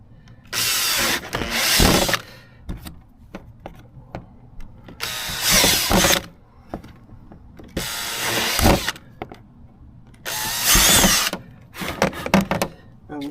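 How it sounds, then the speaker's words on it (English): A power drill whirs in four bursts of a second or two each during a foot pedal accelerator installation, separated by quieter pauses with faint handling noises. "Probably drill it."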